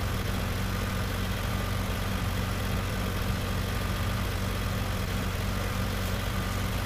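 A tractor engine runs steadily in a field while cultivating with a new disc harrow, a continuous loud drone that holds its level throughout with no talking.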